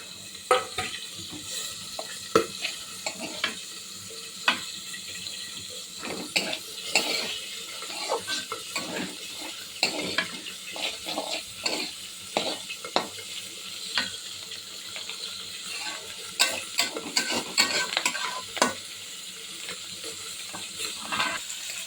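A spatula repeatedly scrapes and stirs bitter gourd frying with browned onion and garlic in a pan, producing steady rhythmic clinks and sizzling scrapes with no talking.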